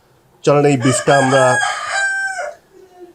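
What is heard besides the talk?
rooster crowing in the morning in a village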